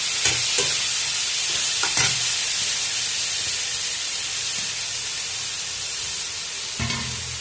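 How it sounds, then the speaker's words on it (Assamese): Boiled vegetables with turmeric, cumin and coriander spices stir-fry in a pan for momo filling, making a loud, continuous sizzle and hiss with a few sharp scrapes and clatters of stirring, and no talking. "ভাজিখিনি লৰাই তলটো অকণমান ৰঙা হোৱালৈকে ভাজি ল'ম"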